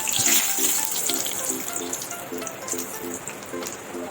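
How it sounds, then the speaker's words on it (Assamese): Bay leaf sizzling in hot oil in a heated wok, a steady crackling hiss with faint repeating clicks, close and continuous. "এতিয়া তেলৰ প্ৰথমতে তেজপাতটা দি দিছো"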